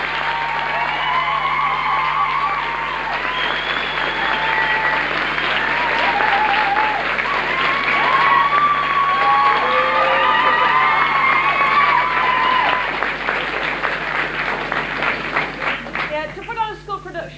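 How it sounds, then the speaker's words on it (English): An audience at a school show applauds and cheers the musicians. Clapping, shouts and whoops carry on steadily with voices mixed in, then begin to fade near the end. "I don't think the musicians have had a round of applause"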